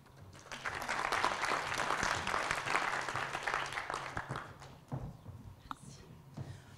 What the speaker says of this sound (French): Je vous demande d'applaudir Agileby.